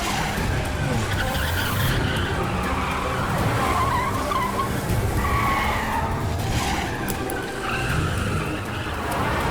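A car races and skids during a chase scene in a Hindi action film, with constant loud engine roar and screeching tires filling the whole stretch without a break.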